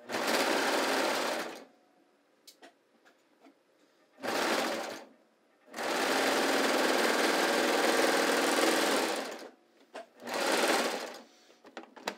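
A sewing machine stitches pants pockets in three loud, sustained bursts of whirring, with quiet pauses and small handling clicks between runs.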